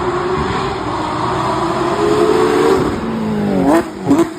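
A Porsche 991 GT3 with a straight-piped Soul Performance exhaust howls down a street at night, a loud sustained rising engine note that dips and snarls with sharp throttle blips near the end.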